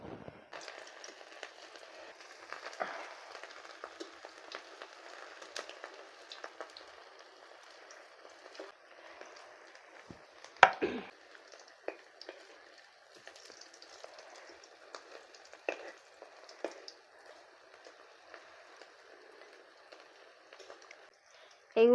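Fish-shaped pieces fry in hot oil in a wok, a continuous light bubbling crackle that sounds like patter, steady and fairly quiet, with a sharper clatter near the middle.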